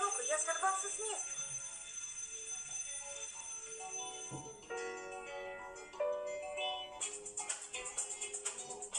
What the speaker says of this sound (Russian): Тут зазвенел звонок, и я сорвался с места.